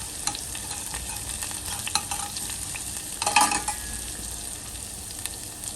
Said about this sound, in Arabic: ودلوقتي بقى هنحمر الثوم